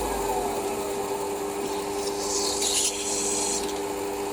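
A Noga hand deburring tool chamfers the edge of a drilled hole on the underside of a part at a Warco WM180 lathe, giving a steady close scraping rasp under faint workshop hum.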